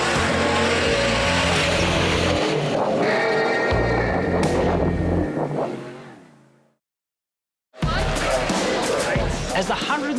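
Off-road race cars at the Finke Desert Race launching off the start line, engines roaring loud and revving hard with gear changes, cutting briefly to silence before another burst of engine noise, with a voice talking over it.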